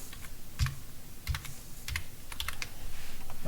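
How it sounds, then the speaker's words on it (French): Typing on a computer keyboard, close and clear: quick clusters of key clicks in an uneven rhythm over a steady background hum, with no voices. "On va bien sûr changer le mot qui est ici, on va taper déplacer."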